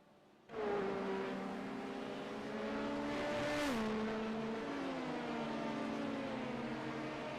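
Race car engines roar in a sim racing game at a Watkins Glen–style road course, a steady loud drone that starts abruptly, with engine pitch rising and dropping through gear changes and a brief surge as another car passes close by.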